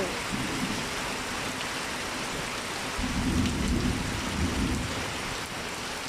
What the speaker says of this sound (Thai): ฝนแรกของฤดูกาลวันที่หนึ่งพฤษภาคม 2567 ค่ะทุกคนฝนตกแล้ว